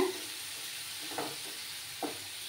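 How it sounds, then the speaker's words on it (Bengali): Spice masala for an egg and potato curry fries in oil under a soft continuous sizzle, with a couple of spoon scrapes as it is stirred close by. "মশলাটার থেকে যতক্ষণ না তেল ছেড়ে আসছে ততক্ষণ আমাকে কষিয়ে নিয়ে যেতে হবে, কষাতে হবে ভালো করে।"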